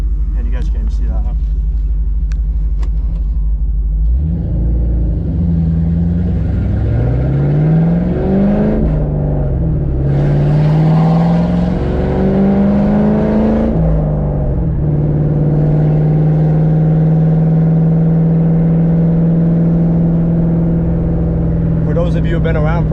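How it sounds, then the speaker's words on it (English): Ford Mustang engine idling around 800 rpm by a bridge, a steady low rumble that rises and dips in pitch with a few brief revs partway through, loud and close, with someone talking over parts of it. "It's idling pretty well, right at 800."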